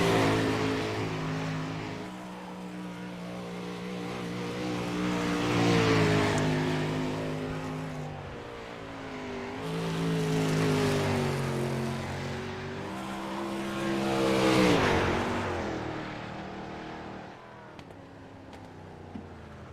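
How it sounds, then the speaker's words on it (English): Race cars lap the dirt oval at Volusia Speedway Park, engines roaring and swelling as each passes, rising and fading in long waves every few seconds with no talk. "Your next car out onto the speedway"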